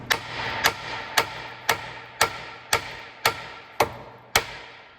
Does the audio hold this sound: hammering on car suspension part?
yes